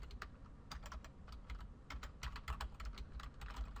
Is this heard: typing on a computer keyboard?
yes